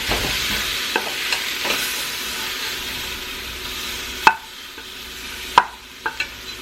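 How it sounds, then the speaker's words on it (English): Oxtails browning in a pot for Jamaican curry oxtails, a steady close sizzle with a few sharp clinks and scrapes of stirring, no talk. "We've been browning our oxtails."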